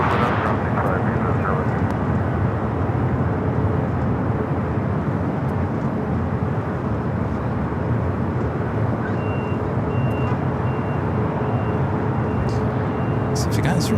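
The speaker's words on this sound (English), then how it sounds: "Delta 757, it just made a right-hand turn on the Echo, heading to 24 left for takeoff." A Delta Boeing 757 taxis at LAX toward runway 24 left, its engines a loud, steady broadband roar throughout, with a voice speaking over it.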